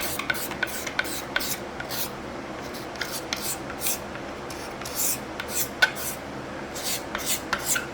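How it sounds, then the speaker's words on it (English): A cabinet scraper smooths the wooden body of a five-string bass guitar, making steady close rasping strokes with sharp scratchy bursts that repeat at an uneven pace. "So I'm on to my cabinet scraper."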